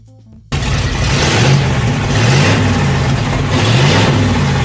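A Flathead V8 racing car engine revs hard after a brief quiet start, a loud continuous roar that rises and falls in repeated surges, close by and with no voices.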